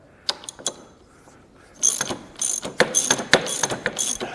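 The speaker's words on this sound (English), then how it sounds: "Okay, just got to tighten the nut." Steering wheel nut being tightened on a Massey Ferguson MF 1725 tractor with a ratchet wrench, with a few sparse clicks followed by a steady run of close, crisp ratcheting strokes.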